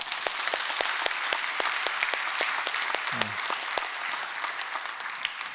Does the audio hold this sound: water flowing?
no